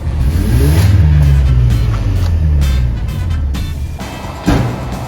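A Mazda FC RX7 rotary-engine car drives along, its engine droning loud and steady with low rumble and gentle rises in revs, then a sudden bump in level near the end; no talking.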